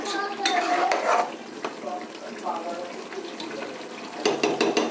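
Spices being stirred in a pot while goat meat curry is sautéed, with close scraping and clinking of a utensil against the pot over a low sizzle, a short pause midway, and brisker strokes at the end.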